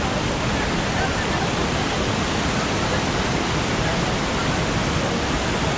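Tall Marmala waterfall on a forest offroad route pours in a loud, steady, unbroken roar of rushing water that fills the whole stretch without pause.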